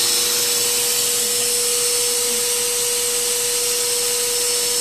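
A vacuum cleaner runs steadily on carpet, a loud, close, continuous motor whine with a constant pitch and no talking.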